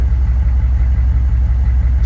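6.5L turbo diesel truck engine idles smoothly after an injection pump replacement, a close, steady low rumble with a regular pulsing beat throughout.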